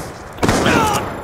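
Trick-shot gunfire in a first-person shooter, a sudden loud crack followed by a ringing, whistling tail, close and brief, with a faint voice nearby.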